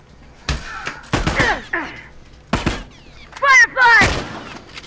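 Gunfire in The Last of Us multiplayer: several sharp, loud shots crack out in quick irregular bursts, with game voices and chatter mixed in between.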